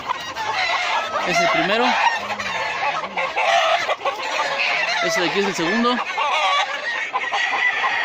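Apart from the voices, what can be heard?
roosters clucking and crowing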